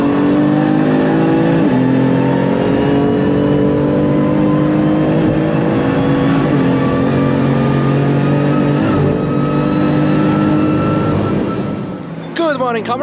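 A BMW M4, freshly rebuilt after winter, drives a cold Nürburgring lap with its engine droning loudly and steadily, revving and shifting through gears, and a voice talks over the engine noise before it eases off near the end.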